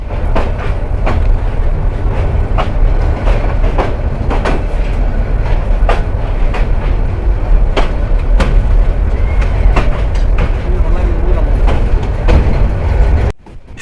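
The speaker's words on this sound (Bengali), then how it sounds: "2 মিনিটের একটু বেশি সময় স্টপেজ নিয়ে সরারচর থেকে ছেড়ে গেল 11 সুন্দর প্রভাতী।" Egarosindur Provati passenger train running after leaving Sararchar station, heard from aboard with a loud continuous rumble and regular clickety-clack of wheels over rail joints, cutting off abruptly at the end.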